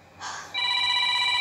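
A telephone rings with a loud electronic tone, starting with a short buzzy burst and then settling into a steady, bright, sustained ring, close and alone.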